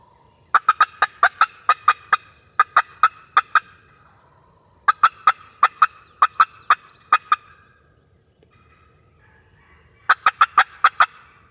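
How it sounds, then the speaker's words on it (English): A wild turkey gobbler calls in rapid rattling bursts near a green field, repeated in four clear sequences with pauses between, loud against a quiet outdoor background. "That turkey's right there at that green field."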